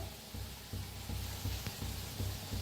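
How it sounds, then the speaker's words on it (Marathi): Frying in a pan for vada pav, a steady hissing sizzle with a low rhythmic bubbling pulse underneath, moderately loud and continuous with no talk. "त्याला बी तळून घेते चांगलं."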